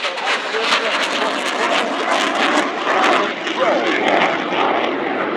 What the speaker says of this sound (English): From the right to the left, several rolls of the Eurofighter on the horizontal